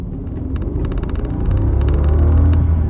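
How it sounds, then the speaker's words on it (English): Rolls-Royce Dawn convertible pulling away in sports mode in low gear, a deep engine rumble swelling steadily over a few seconds from inside the cabin, with faint clicking sounds above it. "All right, so I'm gonna try the supposedly sports mode with the low."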